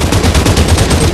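Rapid gunfire in a battle royale video game, a dense run of loud automatic shots sounding continuously throughout with no talk over it.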